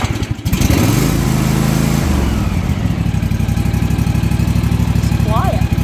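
A Toro TimeCutter riding lawn mower engine, key-started with the choke pulled, cranks briefly and then settles into a steady, close, continuous idle drone that runs to the end.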